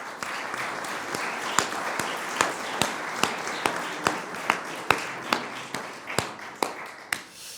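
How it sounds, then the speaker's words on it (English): Applause at a conference for its industrial sponsors, thinning to a sparse, fairly quiet scatter of individual claps with distinct separate hand slaps, each sharp and regularly spaced. "I would like to give an applause, particularly for the industrial sponsors"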